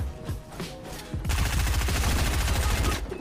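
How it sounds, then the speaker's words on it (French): Rapid bursts of automatic gunfire in a video game, sparse shots at first, then a dense, loud continuous volley from about one second to the end, with no talking. "Ok, ça tire encore."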